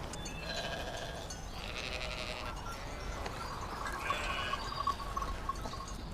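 Sheep bleat repeatedly in a noisy pastoral scene, calls overlapping one another at moderate distance against a steady background hiss, with no talking.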